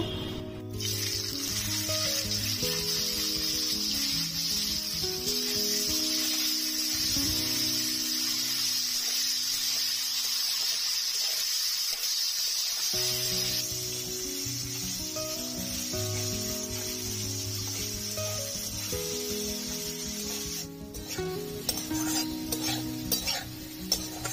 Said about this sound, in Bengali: আলু হালকা লাল করে ভেজে নিয়েছি